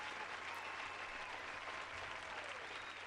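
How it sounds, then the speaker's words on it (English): Studio audience applause, a steady dense wash of clapping that holds evenly at moderate level for the full few seconds with no voices. "Why don't we just get another round of applause from our studio audience?"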